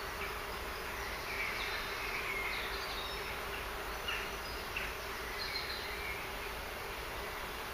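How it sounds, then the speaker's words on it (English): A steady, dense buzz of many honeybees close by, a continuous droning hum with faint higher whines of individual bees moving past. "Very big frame of bees there."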